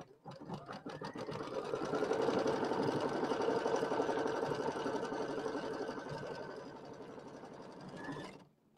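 A sewing machine stitching a row of a pineapple-block quilt, running steadily and continuously for about eight seconds with a fast, even mechanical whir and no talking.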